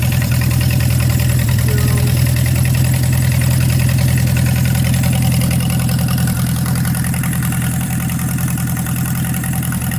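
A Palmer 60 marine engine runs at a steady idle with its V-drive spinning, giving a loud, constant low rumble and mechanical vibration throughout without any talking.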